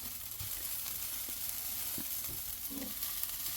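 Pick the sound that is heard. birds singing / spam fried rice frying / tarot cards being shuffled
spam fried rice frying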